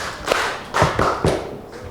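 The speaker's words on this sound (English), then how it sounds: "Give them 2 claps." A classroom group claps hands in a short burst of several sharp, slightly ragged claps, close and fairly loud, without talk.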